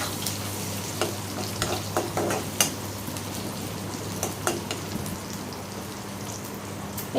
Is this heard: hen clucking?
no